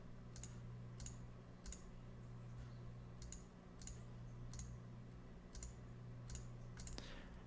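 Keystrokes of a web address being typed on a device keyboard, about ten distinct sharp taps at an uneven pace over a low steady hum, close and fairly quiet.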